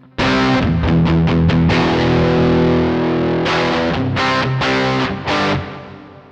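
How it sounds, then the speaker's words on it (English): Electric guitar through a Tech 21 Fly Rig 5 v2 with the plexi distortion engaged, loud and close, playing sustained distorted chords followed by short choppy stabs with brief gaps. "It actually makes a dramatic difference when you have the plexi on, because then it basically adds distortion."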